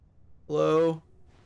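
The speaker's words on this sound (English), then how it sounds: "Did I hear a bee?" Bee buzzing in The Stanley Parable: a single rich, droning buzz lasting about half a second, clear and fairly close against near silence, with a faint trace after it.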